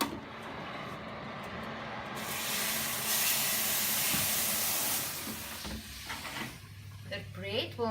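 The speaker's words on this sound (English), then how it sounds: "I will get the hot water and we will put that in the bottom of the oven to give it a steam" Hot water poured into the bottom of a hot oven before baking spelt bread sends up a loud, broad steam hiss and spray that swells for several seconds, then fades as clattering and a low hum follow.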